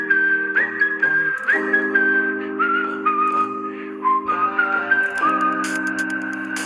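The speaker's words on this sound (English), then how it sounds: "That whistling could be so corny, but it's not." A whistled melody carries the tune in a song from an album, a clear, steady tone that glides between pitches over a full bed of sustained music, with no talking.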